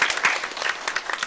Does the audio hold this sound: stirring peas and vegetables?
no